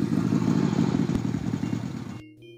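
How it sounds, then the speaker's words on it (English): Jack's motorcycle pulling up in the video game Darkseed 2, a steady rumbling engine with clattering texture that holds for about two seconds and then cuts off abruptly. "Jack with his very cool motorcycle. Hey, that's Jack. You can hear it come up."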